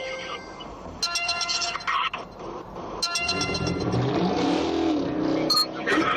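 A Dodge SRT car engine revs and accelerates during a police chase, a loud, rising roar with bursts of intensity, heard from nearby with faint background voices.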